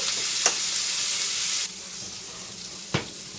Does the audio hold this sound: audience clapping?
no